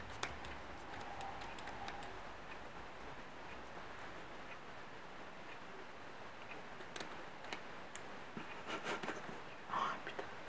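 Hair being cut with cheap scissors during an amateur home haircut, a series of faint crisp snips and ticks scattered over a soft background, with quiet talking and whispering mixed in.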